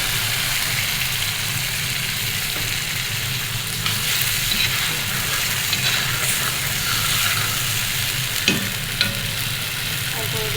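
Chicken curry cooking in a pan, with spiced masala paste added and frying in oil, producing a steady, loud, continuous sizzle with a few soft stirring scrapes throughout.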